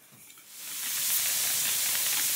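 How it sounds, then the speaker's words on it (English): Steam hisses from the needle of a homemade guitar neck steamer, starting faint, then swelling within a second into a steady, bright, continuous hiss close by. "There's the steam."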